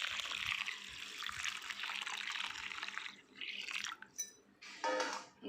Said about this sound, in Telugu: దీంట్లో ఇప్పుడు మనం కూల్ వాటర్ పోద్దామండి.